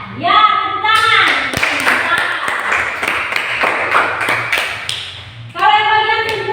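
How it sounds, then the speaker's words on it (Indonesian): A classroom of children breaks into brief applause, a burst of clapping lasting about four seconds, framed by a teacher's voice before and after. "Ya, tepuk tangan."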